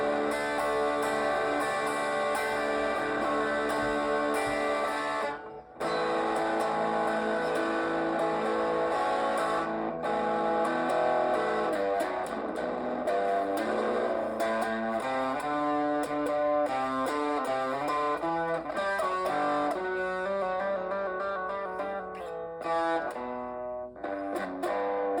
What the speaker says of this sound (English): now I'm going to add the amp model and the speaker model back in. And then turn the